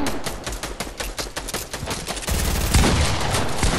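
Video game gunfire rattles in quick automatic bursts, close and loud, the shots getting denser and heavier in the second half.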